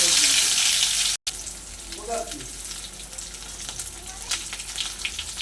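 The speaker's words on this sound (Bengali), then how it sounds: "এবারে আমি কাঁকরোলগুলো আস্তে ওপর নিচে করে ভেজে নেব।" Stuffed spiny gourds fry in hot mustard oil, giving a bright, steady sizzle close by, briefly cut off at one point, then continuing with crackling pops and occasional turning sounds.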